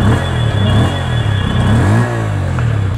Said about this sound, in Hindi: पहले गाइस GoPro मोड पे एग्जॉस्ट नोट आप लोग सुना देता हूँ।